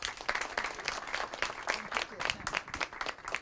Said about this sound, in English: Interim Superintendent Dr. ECHS, a huge round of applause.